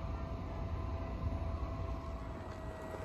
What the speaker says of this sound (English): here's a Class 8100 getting ready to leave Bray, headed for Dublin.